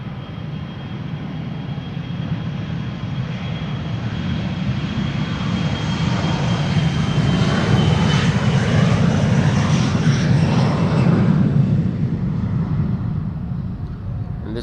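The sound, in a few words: KLM jet airliner departing Amsterdam Schiphol Airport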